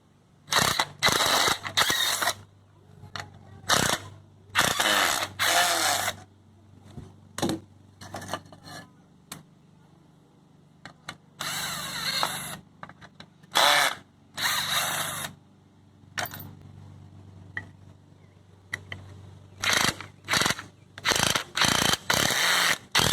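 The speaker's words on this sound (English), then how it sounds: "let's start by loosening up and getting these scrap boards off of here." A hand ratchet clicks in quick bursts while backing screws out of scrap wood boards, with loud, close, rapid ratcheting runs separated by short pauses.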